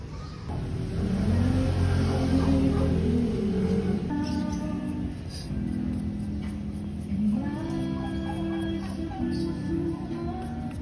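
Diesel engine of a Hyundai Starex with a D4CB motor and suspected blow-by, running steadily at close range during a workshop test, with a sustained loud drone that shifts in pitch as it revs.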